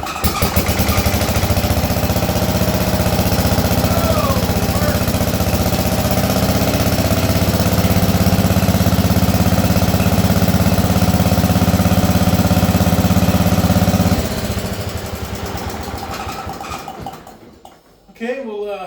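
An Allis Chalmers B210 garden tractor engine runs loud and close at a steady, throbbing idle for about fourteen seconds, then winds down and dies away near the end.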